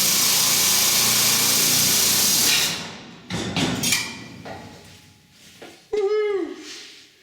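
Power tool cutting through tack welds on an Austin Mini hinge, a loud grinding whine for a few seconds that cuts off, then bursts of scraping metal and a sharp descending tonal squeal near the end.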